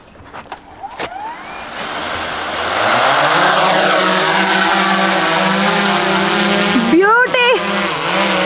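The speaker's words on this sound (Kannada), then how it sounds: "ಫ್ಲೈಟ್ ಅಲ್ಲಿ ನೋಡಿ. Let's fly baby." An airplane's engines swell into a loud, steady roar heard from inside the cabin as the flight gets under way, with a voice briefly audible over the noise.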